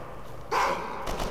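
Dogs bark in the shooter video game Kane and Lynch 2: Dog Days, a sudden burst of barking rising over steady background game noise and then fading into a second, softer flurry.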